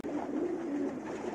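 Pigeons of a crossbred pair, a hen among them, coo steadily and close by for over a second, a low warbling murmur with no talk over it.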